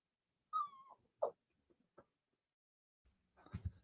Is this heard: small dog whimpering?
yes